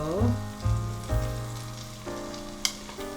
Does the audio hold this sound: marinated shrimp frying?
yes